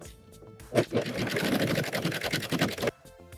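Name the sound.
serger sewing a swimsuit seam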